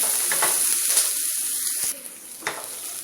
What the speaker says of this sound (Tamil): கொஞ்சம் வந்து ப்ரௌனிஷ் ஆகணும் வெங்காயம்.